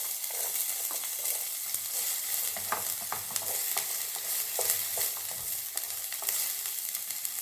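Chopped onion sizzles and fries in melted butter in a pan, a steady bright hiss broken by frequent scraping stir clicks, close and alone without voices.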